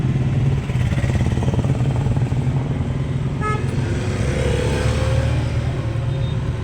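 A DJ vehicle's engine drones loudly and steadily at a festival procession, with a short horn toot partway through and no talking.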